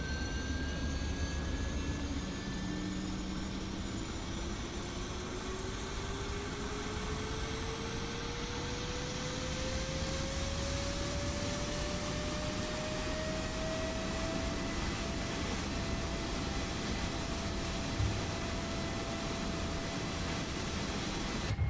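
A PMDG 777 in the MSFS 2024 flight simulator with the Boris Audio sound pack gives a loud, continuous jet engine roar. A rising whine slowly climbs in pitch over a broad rushing hiss, with no voices.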